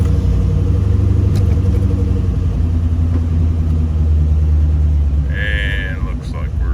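Engine of a C4 Corvette, newly fitted with a fresh battery, cranking and then running with a steady low rumble at close range; a brief higher chime or whine enters near the end.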